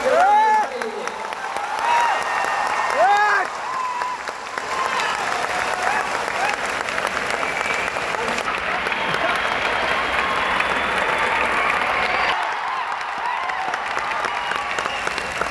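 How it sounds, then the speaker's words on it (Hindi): An audience at a career guidance seminar in Patna applauds loudly; thick, sustained clapping with some cheering fills the room for most of the stretch, with speech over the start before the applause swells and runs on steadily. "चाहता हूं कि तालियों की गड़गड़ाहट इतनी दूर तक हो"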